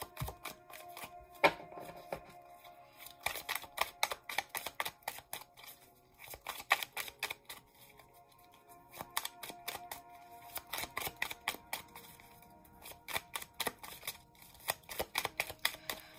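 Tarot cards being shuffled up close in repeated quick bursts, crisp riffling and slapping with short pauses between rounds.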